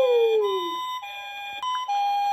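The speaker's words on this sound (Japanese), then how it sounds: "後ろからも救急車列車がやってきた。" A cartoon ambulance siren in a children's animation, alternating two-tone wails that step between high and low pitches, loud and close, with a descending whoosh at the start and no talking.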